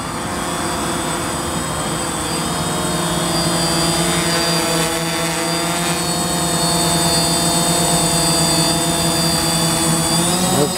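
A DJI Phantom FC40 quadcopter drone hovers and flies nearby, its propellers producing a loud, steady buzzing whine with layered tonal harmonics that shift slightly in pitch as it moves.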